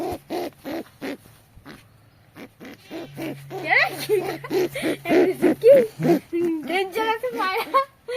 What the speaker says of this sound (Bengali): ভীষণ অ্যাগ্রেসিভ পায়রা ধরলেই ডাকে